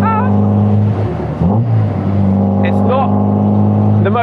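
Healey by Caton sports car engine revving as the throttle is blipped, a steady loud drone with rising and falling pitch, heard from inside the cabin.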